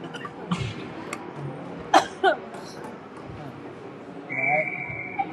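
A couple of short, sharp coughs from a hockey broadcaster stand out from a murmuring arena background, followed by a brief whistle-like tone.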